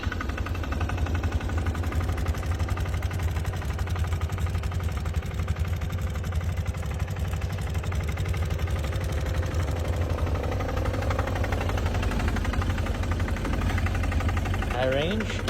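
A Polaris utility vehicle's diesel engine runs at a steady rumbling idle with a knocking, rattly texture, fairly close, with a voice talking over it.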